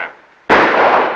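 A rifle fires once in a sharp, loud, close crack after a brief quiet lead-in, and a short noisy burst trails off behind it.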